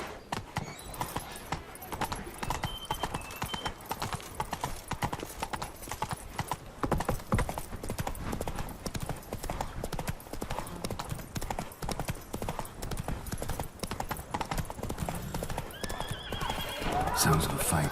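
Roach, a horse in The Witcher 3, gallops with rapid rhythmic hoofbeats that continue throughout, joined by a whinny, while a voice talks over the ride.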